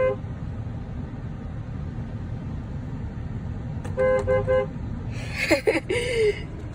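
A 2016 Dodge Grand Caravan horn sounds one short, nasal honk over a low steady hum, followed by people talking and laughing close by.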